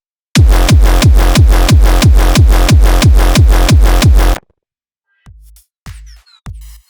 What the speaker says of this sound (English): Now, we finally completed the kick,